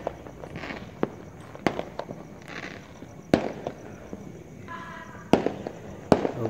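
New Year's Eve fireworks exploding across a city sky, a series of sharp far-off booms spaced a second or so apart above a hushed outdoor background with light rustling and a brief tonal chirp.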